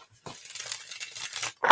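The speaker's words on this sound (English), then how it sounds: "one more quick shuffle" A deck of cards is shuffled for a card reading, giving close, dry papery riffles and crinkling bursts separated by short pauses.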